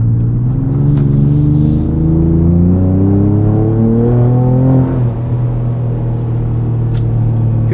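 A Ford Ranger Raptor pickup with Baja sport exhaust and 35-inch tires revs up, its exhaust note rising steadily in pitch for several seconds, then drops back to a deep, rumbling idle.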